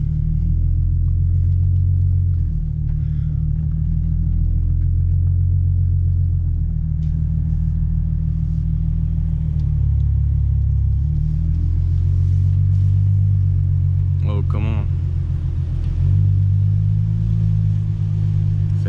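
A Ford Mustang with a 3.7-litre 305 hp V6 and 6-speed automatic drones steadily from inside the cabin during a test drive, a loud low hum that rises and falls with gear changes.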